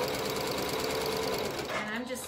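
A sewing machine runs a steady, fast zigzag stitch along the raw edge of a knit fabric, whirring continuously and close up before slowing near the end, with a voice briefly speaking over it.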